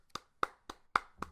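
A small round of hand clapping, five sharp, evenly spaced claps close up, with quiet gaps between them and no talking.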